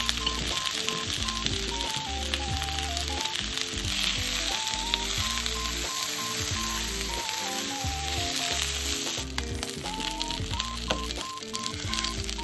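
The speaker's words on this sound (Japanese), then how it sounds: "全面に焼き目がついたら弱火で面を変えながら5分程度焼きます" Ostrich heart sears in a pan over low heat, giving a steady close sizzle with soft spattering and a faint repeating tonal pattern underneath, no voices.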